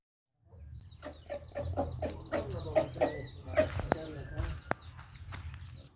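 A fighting rooster from Karimnagar district clucks in a quick series of short, fairly close calls, with some soft rustling and footstep-like knocks underneath.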